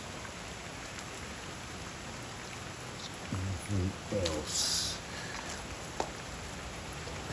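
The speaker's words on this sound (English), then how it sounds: "Besides the rain picking up." Rain falls outdoors among an orchid collection, a steady soft patter and hiss throughout, with someone briefly speaking over it and an occasional sharper drop.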